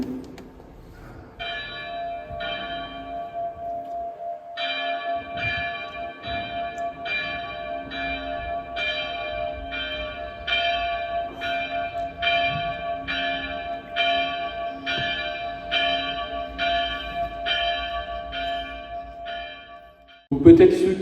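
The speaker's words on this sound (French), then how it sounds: "Elle sonne à un ré de la 4e octave, vous pouvez l'entendre ici." A church bell tuned to D in the fourth octave tolls steadily, about once per second, with a bright ringing tone and lingering hum, after a short pause near the start; a voice cuts in at the end.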